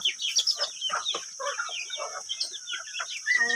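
Bantam chicken clucking up close in short, fast bursts, a steady run of sharp, bright clucks with a louder flurry at the end and no voices.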